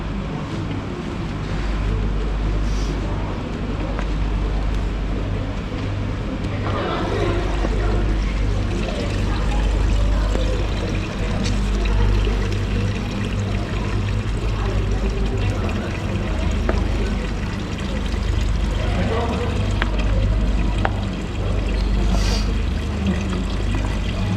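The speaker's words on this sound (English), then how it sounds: "And now I will pour this into the sink." Oily, greasy kitchen wastewater is poured into a sink, giving a continuous splashing gush that lasts throughout, with voices talking over it.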